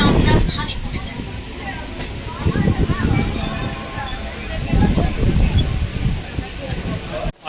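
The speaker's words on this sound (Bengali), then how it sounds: "এখন ট্রেন এসে পৌঁছেছে আর কাটোয়া স্টেশনে ঢুকতে যাচ্ছে" A local train pulling into Katwa station: a steady, broad rumble and rushing noise run throughout, with a person talking over it.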